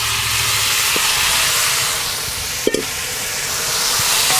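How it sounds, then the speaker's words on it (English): Peeled, deveined shrimp with the tails on, seasoned with salt and pepper, sizzle in a cast iron wok on a Kamado Joe grill. A steady, loud hissing sizzle is broken by a brief utensil clatter midway. "I'm going to toss in my shrimp"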